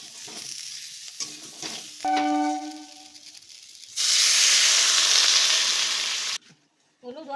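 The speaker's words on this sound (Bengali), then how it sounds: "বেগুনটা একটু ভাজা ভাজা করে নিয়েছি, এবারে দিয়ে দেবো এর মধ্যে জল" Water hits brinjal frying in a pan and erupts into a loud, steady steam sizzle that lasts a couple of seconds, then cuts off abruptly, following earlier stirring clatter and a short whistle-like tone.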